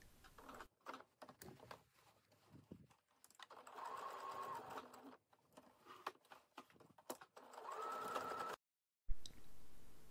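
A domestic sewing machine stitches webbing strap onto a bag made from a pillowcase, running in several short, rapid bursts with pauses between them. The machine whirs and clatters close up, alone.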